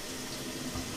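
Water runs steadily through an eSpring water filter into a container for making summer cocktails, a close, even stream with no voices.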